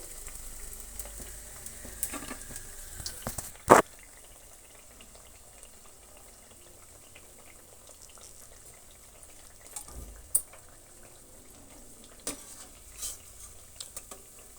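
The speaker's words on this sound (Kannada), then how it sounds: "ಸಿಮ್ಮನ್ನು ಸ್ವಲ್ಪ ಡೌನಲ್ಲೇ ಇಟ್ಕೊಂಡು ನೀವು ಫ್ರೈ ಮಾಡ್ಕೋಬೇಕಾಗತ್ತೆ ಯಾಕಂದರೆ ಬ್ರೆಡ್ ಸ್ಲೈಸು ಬೇಗನೆ ಕಪ್ಪು ಆಗಿಬಿಡುತ್ತೆ" Bread slices fry in a pan on low heat with a soft, continuous sizzle, broken by a few sharp clinks and taps of a utensil, without talk.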